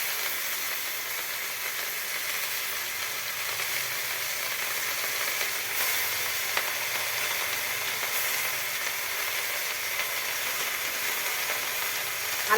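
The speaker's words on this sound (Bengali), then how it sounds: "এবার ওই পেঁয়াজের তেলের উপরেই আমি শাকটা দিয়ে দেবো।" Kankrol leaves tossed into hot onion oil for a thin magur fish curry, giving a steady, close, continuous sizzle and crackle of frying that holds evenly throughout with no voices.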